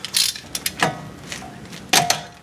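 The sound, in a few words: removing brake caliper bolts on 2012 Yukon Denali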